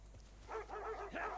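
Dogs in Civilization 6 bark and yip back and forth, a few quick overlapping calls rising in the middle and near the end, moderately close over a faint low game hum.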